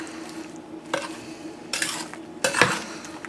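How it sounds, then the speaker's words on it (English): A spoon stirs thick peach butter in a crock pot, giving a few soft scraping and clinking bursts against the ceramic pot over a low background hum. "I'm going to give this a good stir one more time."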